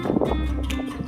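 Gusty wind off the island relief buffets the microphone aboard a sailboat at the Testigos islands, Venezuela, a low, steady rumble that swells and fades over a second or so.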